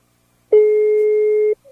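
A single steady electronic tone from an outgoing phone call sounds for about a second, clean and evenly loud, then stops, with a faint blip after.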